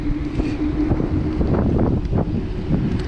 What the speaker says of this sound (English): Very smooth riding scooter.